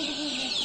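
Newly arrived farm chicks peeping in a short, continuous, high-pitched cheeping burst, close and clear.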